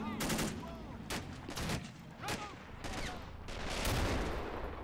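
Mortar and gunfire in the RobZ Realism Mod game at Pointe du Hoc, repeated distant booming blasts and crackling shots in irregular bursts over continuous battle noise.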